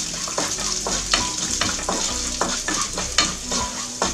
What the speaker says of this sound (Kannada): ಈಗ ಎಣ್ಣೆ ಕಾದ ತಕ್ಷಣ ನಾನು ಕಡಲೆಬೇಳೆ, ನಂತರ ಉದ್ದಿನ ಬೇಳೆ ಇದರಲ್ಲಿ ಸ್ವಲ್ಪ ಒಗ್ಗರಣೆಗೆ ಇಟ್ಕೊಳ್ತೀನಿ, ಹಾಕಿ ಸ್ವಲ್ಪ ಫ್ರೈ ಮಾಡ್ಕೊಳ್ಳೋಣ